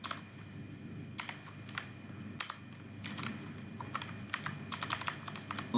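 Typing on a computer keyboard while coding an HTML form, with quiet irregular bursts of key clicks and short pauses, close and soft, no talking.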